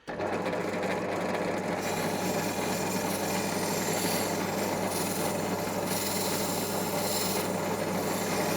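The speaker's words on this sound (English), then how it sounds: "it's held onto wire wheels because they're just so helpful for stuff like this" A wire wheel spinning on a pillar drill strips flaking powder coat off aluminium Suzuki DRZ400SM motorcycle parts, giving a steady, loud abrasive rasp over a constant motor hum that grows harsher after the first couple of seconds.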